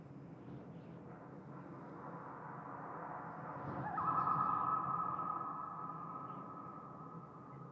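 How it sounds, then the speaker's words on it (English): A sound drenched in long, unrealistic reverb applied in Pro Tools, with a swelling wash that builds midway and then trails off in a sustained, smeared tail with no talking. "Hear that long tail on the sound? that's all reverb."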